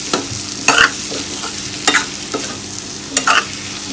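Potatoes stirred and fried in a pan, a steady sizzle under repeated scraping strokes of a spoon against the pan, several distinct stirs spaced about a second apart, close and fairly loud, without talk.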